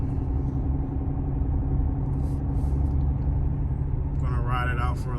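2021 Audi S7 cruising on the road: a steady, low engine and tire rumble inside the cabin, with someone briefly speaking toward the end.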